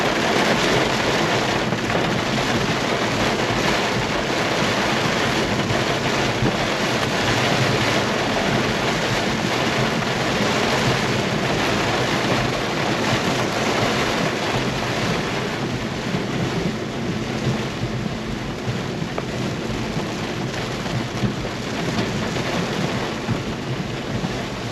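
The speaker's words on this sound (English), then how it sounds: "Oh, this rain's horrible" Heavy rain pounds an Infiniti Q50 Red Sport 400 on the move in an intense downpour, a dense, steady roar of drumming water and road noise that fills the cabin without letup.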